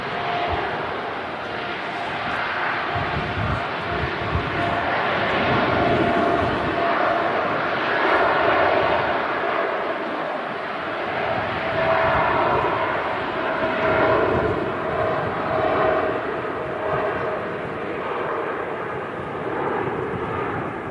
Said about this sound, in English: There she goes, the TUI Nordic 787-9 heading off to Cancun in Mexico.